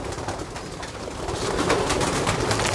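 Domestic pigeons cooing at close range at a rooftop loft, soft repeated throaty coos over a busy background murmur, lasting under three seconds.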